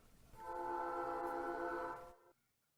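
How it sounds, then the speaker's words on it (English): A train on a video game soundtrack sounds a long, steady multi-tone horn for about two seconds, fairly loud against a quiet backdrop, then cuts off abruptly with no voices. "I hear a train."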